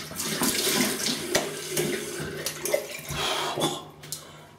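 Water from a tap runs steadily into a sink for a rinse after a wet shave with a Rockwell 6S safety razor, a continuous close splashing rush with a few small clinks and knocks, no talking.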